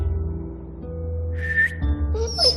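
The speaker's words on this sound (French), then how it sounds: "Maintenant, siffle et dis-lui de se coucher." A short two-tone whistle in The Walking Dead video game, given as a command to a dog: a rising mid-pitched note followed by a brief higher call, heard over a steady low game background hum.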